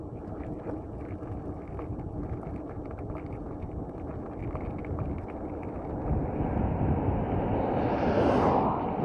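Rushing wind buffets the microphone while riding an e-bike in traffic, a steady broadband roar that grows louder and harsher toward the end as speed or gusts build.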